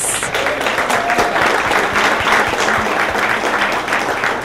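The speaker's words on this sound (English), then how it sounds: "let's give one more round of applause for all of the finalists." Sustained audience applause for startup finalists at an evening pitch competition, dense steady clapping filling the room from start to finish with a faint voice underneath.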